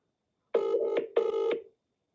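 A telephone call rings out just before the line goes to voicemail, giving two short, clean electronic ring bursts with a brief gap between them, clear and isolated with silence after.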